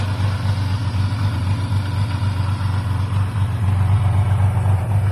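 A 1982 Kawasaki KZ1300 motorcycle with original full exhaust idles steadily and close, a continuous low, even engine hum with no revving and no talk.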